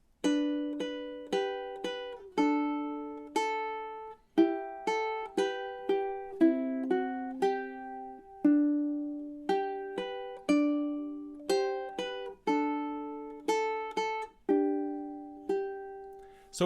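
Solo ukulele plays measures 7 to 10 of Waltzing Matilda, clean plucked melody notes and light chords in a steady waltz rhythm, close and clear with no talking.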